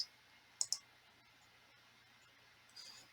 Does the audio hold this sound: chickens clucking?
no